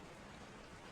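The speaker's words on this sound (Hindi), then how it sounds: "बारिश की आवाज कमरे में गूंज रही थी।" Steady rain falling for a horror story scene, a dense, even wash of drops that fills the moment without pause and carries no voices.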